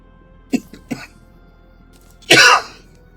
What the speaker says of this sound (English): Stupid cough.